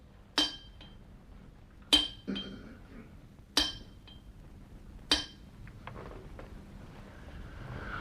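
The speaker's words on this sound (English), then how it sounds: "Leaving young Garrick chipping away" Four sharp, bright clinks spaced evenly about every one and a half seconds, like a tool chipping away at a hard sample, each followed by a faint scrape under quiet room noise.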